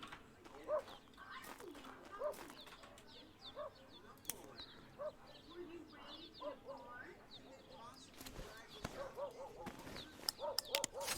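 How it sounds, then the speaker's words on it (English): Birds in the video game Drug Dealer Simulator: scattered chirps and coo-like calls recur through a quiet ambient background, while a person talks over them at intervals. "There's birds in the game?"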